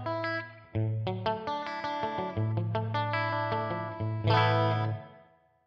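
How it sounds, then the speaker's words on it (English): Electric guitar run through a room reverb setting in the JST ToneForge Jeff Loomis plugin, playing a sequence of clean, chorus-tinged picked notes over a sustained low tone, with a short natural room tail and a final louder strum that fades out. "And we've got the Room Reverb."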